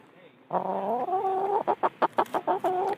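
A laying hen clucks up close, a drawn-out call followed by a quick series of short, choppy clucks.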